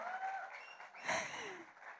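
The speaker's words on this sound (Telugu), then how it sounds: "ఒకసారి గట్టిగా చప్పట్లు ఫర్ ద డైరెక్టర్" A short burst of applause greets the director at a trailer launch event, modest and somewhat distant, swelling briefly in the middle before fading.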